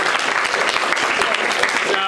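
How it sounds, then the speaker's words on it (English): Dense clapping from an audience, continuous and fairly loud throughout, with a faint voice emerging near the end. "I think we should give a round of applause to Rohan and Melissa."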